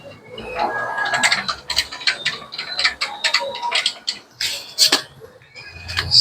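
A screw is fastened while a front brake pad is replaced on a Sniper 155 motorcycle, giving rapid close ratcheting clicks and small metallic ticks in uneven bursts, with faint background noise.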